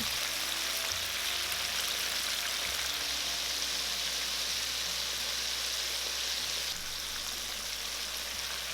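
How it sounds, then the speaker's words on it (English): Continuous bubbling sizzle of chicken pieces deep frying in hot oil, a steady crackling hiss throughout with no voices. "Carefully transfer the chicken into the oil and deep fry for about 5 minutes"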